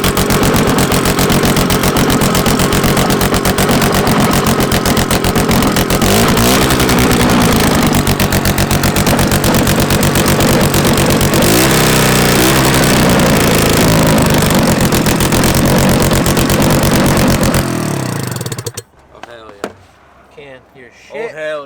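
A Sachs P-port single-rotor rotary engine swapped into a track kart runs hard and close, a loud, raspy, continuous buzzing roar that rises and falls a little before cutting off abruptly, leaving a few short sounds and voices.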